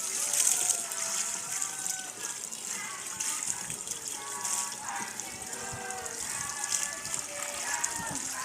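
Water drawn from a village well sloshes and splashes continuously at close range, a busy watery patter with bright hiss that runs steadily throughout.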